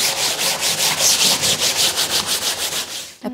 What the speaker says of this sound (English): Apply the sponge to the front side and the underside. Do not forget to rub on the back below the lace seam.